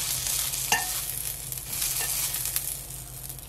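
King oyster mushroom pancakes fry in a lightly oiled pan, with a soft, steady sizzle and a few brief scraping stirs.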